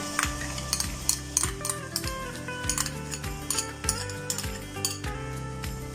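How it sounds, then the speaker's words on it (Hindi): Whisked yogurt goes into beef keema with capsicum in a pan over lowered heat, and a spoon stirs it in with repeated close metallic clinks and scrapes over a faint background sizzle. "अब मैं आंच आहिस्ता करके इसके अंदर ये तकरीबन हाफ कप के अराउंड दही है, ये मैं फेंट के इसके अंदर ऐड कर रही हूँ"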